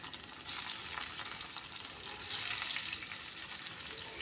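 Pieces of mrigal fish rubbed with salt and turmeric fry in hot oil in a wok, giving a steady, close sizzle that flares louder as fresh pieces drop in, once near the start and again midway.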